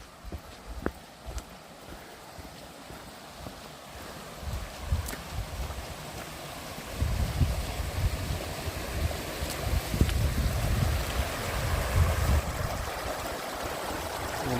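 A river flowing in Glen Rushen on an autumn walk, a broad wash of rushing water that starts moderate and grows fuller and nearer halfway through, with scattered footstep knocks.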